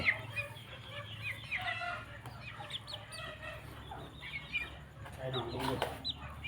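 Chickens clucking and a rooster calling in a busy farmyard, with a steady low hum underneath and some faint talking mixed in.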